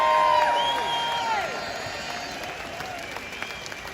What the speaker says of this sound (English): Let's have a round of applause for her mum and dad as well.